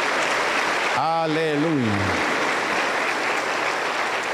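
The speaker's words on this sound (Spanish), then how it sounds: "Aplauso para el Señor Jesús." A church congregation claps steadily and densely throughout, a continuous wash of applause, while a voice calls out briefly over it near the start.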